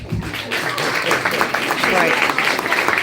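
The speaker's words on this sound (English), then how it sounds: "applause break" Lively applause and scattered clapping from a comedy crowd at a comedian's New York after-show Q&A, steady and close, with voices talking and calling out over it.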